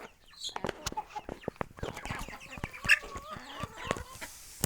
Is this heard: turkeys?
yes